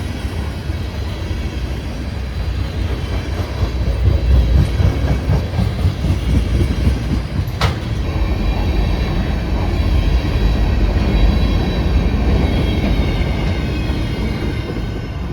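An Amtrak Empire Builder passenger train departs past a snowy grade crossing in Minot, North Dakota, with rumbling wheels and rhythmic clickety-clack, plus a brief squeal or horn-like tone partway through, loud and sustained throughout.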